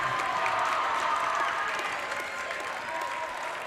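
Crowd applauding and cheering at a boys' high school basketball senior night game, a steady roar of clapping and shouts filling the gym throughout, with faint voices mixed in.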